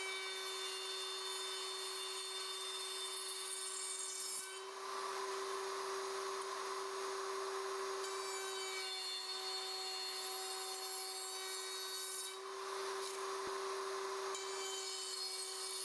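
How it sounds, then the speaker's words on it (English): Leigh RTJ400 jig with a router cutting 3/4-inch box joints in wooden boards makes a loud, sustained high-pitched whine that dips briefly as each template opening is routed, with no talking. "Route in each template opening."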